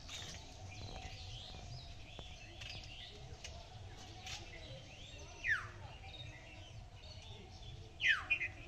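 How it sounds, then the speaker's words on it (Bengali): Small birds chirp faintly outdoors, with a few short, rising calls standing out above a low, steady background hum. "চুপচাপ মনে হয় যেন বসে পাখির কলরব শুনতে থাকি।"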